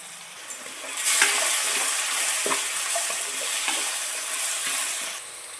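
Vegetables for dhaba-style veg fried rice frying in a pan with butter, with a steady loud sizzle, spatula scrapes and stirring knocks running throughout, and no talking.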